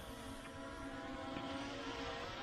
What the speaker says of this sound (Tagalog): let's go bring the drone up a little bit more altitude.